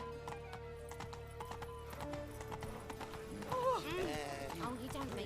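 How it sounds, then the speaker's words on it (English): Horse hooves clip-clopping at a walk in the video game The Witcher 3, a steady rhythmic clatter with a whinny near the end, under a droning game soundtrack. "Por aquí no puedo correr con el caballo"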